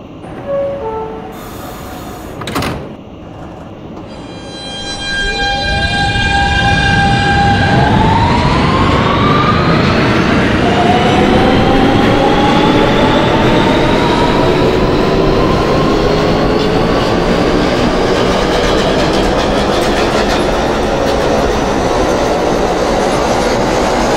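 An R160 Siemens subway train on the M line in the OpenBVE simulator: a few tonal chimes and a click, then the traction motors whine upward as the train accelerates into a loud, steady running roar.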